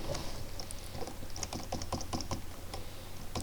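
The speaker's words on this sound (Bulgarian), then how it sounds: "Извинете, че се чува така от клавиатурата." Rapid clicking of a computer keyboard being typed on during a gaming session, a steady patter of light key taps at close range with no talking.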